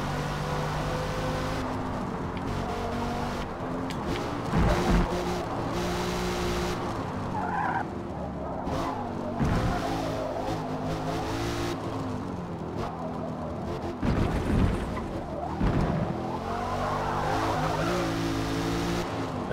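A Chevrolet Camaro ZL1 lapping a track in Forza Motorsport: a steady, loud engine drone with brief dips at the gear changes, and short bursts of tire squeal and skidding running through the whole lap.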